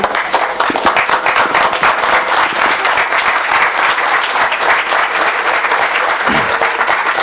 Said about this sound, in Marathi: आपण उभं राहून एकदा जोरदार दादांसाठी टाळ्या वाजवू